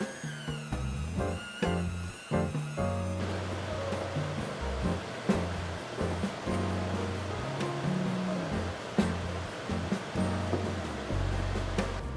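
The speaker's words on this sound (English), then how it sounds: "Whisk together." Cream cheese frosting of cream cheese, unsalted butter, vanilla extract and powdered sugar is whisked in a bowl, with loud, steady scraping and rhythmic beating throughout and no talking.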